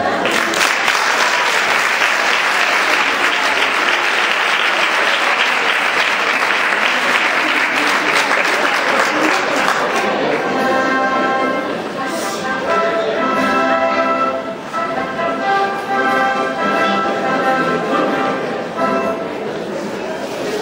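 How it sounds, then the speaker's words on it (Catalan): A crowd gives strong applause at a children's Falla presentation, loud and sustained clapping that thins after about ten seconds as music and voices come through underneath. "Nosaltres i tota la comissió només podem donar-te les gràcies en este fort aplaudiment."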